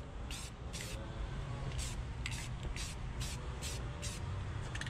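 Rust-Oleum gloss leather brown spray paint going onto a Civic during a sunroof delete: about nine short, sharp hissing bursts of the spray can over a steady low background rumble.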